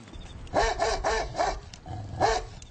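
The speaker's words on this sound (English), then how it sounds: "I got big guard dogs." Several big guard dogs bark in loud, rough bursts, about four close together and then one more after a pause, near and with no talk over them.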